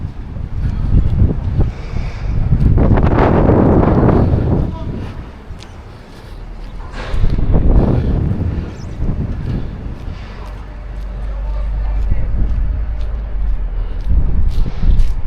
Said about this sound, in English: it's got very windy again